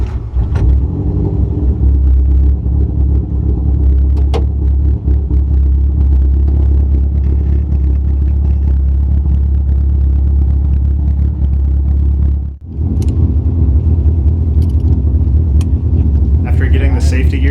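A rally car's engine, just repaired after a connector came unplugged, rumbles loudly and steadily, close up, with one brief dip and a rise in revs near the end.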